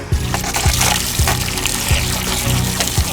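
Water from a hose splashes and pours steadily onto a car being washed, close by, with a few sharp splatters as the stream hits the surface.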